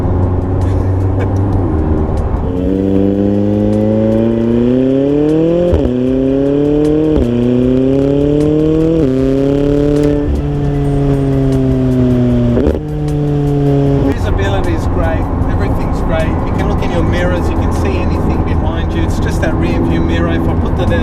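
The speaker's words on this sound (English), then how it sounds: "You hear all that turbo sound kick in." A McLaren sports car engine with titanium exhaust revs hard through several rising gear pulls, a turbo whine building over the roar, then settles to a steady drone; no talking.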